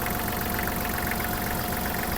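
A 1.5-litre three-cylinder diesel engine on a Kubota GL-260 mini tractor idles steadily and evenly, a constant low rumble with a mechanical hum, close by and with no voices.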